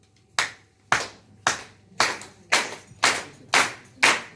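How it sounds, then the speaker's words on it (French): An audience at an international evening event in Nantes claps in unison along to a song, eight loud, evenly spaced claps about half a second apart, with no talking. "vous allez devoir applaudir comme ça"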